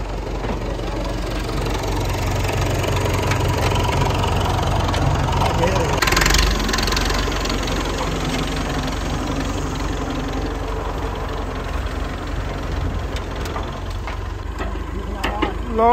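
An old 1962 International tractor engine running, a steady low rumbling idle with a knocking texture that stays close throughout, with people talking over it.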